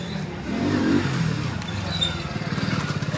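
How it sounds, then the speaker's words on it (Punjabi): A Hero Splendor motorcycle engine runs nearby with a steady mid-pitched drone, rising briefly as if revved, then settling into a pulsing idle over the last second. "motorcycle Splendor"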